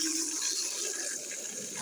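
Borehole water poured into a kettle, a steady hissing splash of liquid filling the vessel, close and continuous with no talk.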